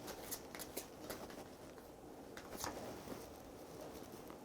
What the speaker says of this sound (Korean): 주역 카드 한번 뽑아 보겠습니다.